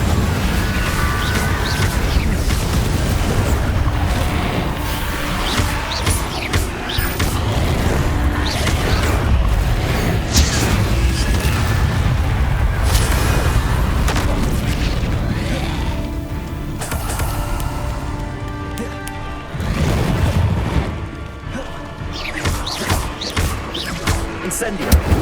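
Fiery spell bursts from the Incendio cast in Hogwarts Legacy, with dense booming blasts and crackling impacts rolling continuously over game music and a voice calling out spells.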